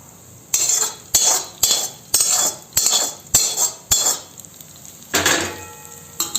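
Repeated scraping clinks of a spoon working crushed garlic into coarse red chili thecha in a bowl, about a dozen sharp strokes in a steady rhythm, close and fairly loud with no talking.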